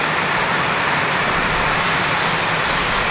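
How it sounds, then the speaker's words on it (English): Rain falling steadily in a volcanic park area after days of downpour, a dense, even hiss that holds loud and unbroken throughout. "Really raining, hey?"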